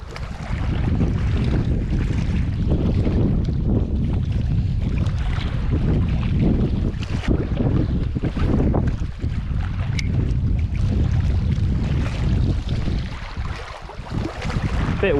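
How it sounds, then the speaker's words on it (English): Strong wind blows across a remote Lake District lake, a steady, loud buffeting roar with microphone rumble and gusty fluctuations throughout, lapping water faintly beneath and no voices. "Bit windy, isn't it?"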